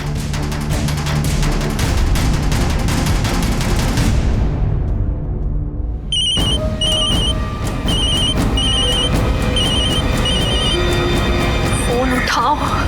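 A telephone rings in a home in a series of repeated electronic ring bursts after a loud dramatic music swell fades out, steady and fairly prominent through a tense scene.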